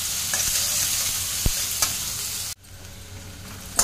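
Finely chopped onions sauté in a pan after green chillies, a loud close sizzle with a few spatula taps, then the hiss drops off abruptly to a much quieter simmer.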